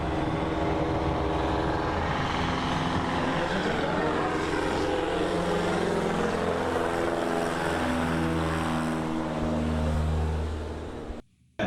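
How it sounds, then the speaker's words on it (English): A floatplane roars through its takeoff run on water in Alaska, its loud steady engine and propeller drone rising in pitch as the hull planes out, then cutting off abruptly near the end. "as the plane gradually levels out, it'll only be drawing about 6 inches of water"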